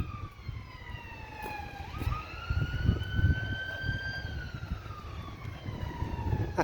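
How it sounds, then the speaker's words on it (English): Police and ambulance sirens wail in the distance, several overlapping tones rising and falling over a low rumble of traffic, with no one talking. "I can hear sirens in the background."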